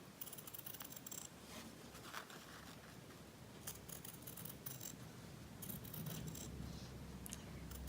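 Quiet snipping of scissors cutting fabric for a mug rug, a string of light crisp clicks and slices with small metallic rattles, close but faint, heard alone.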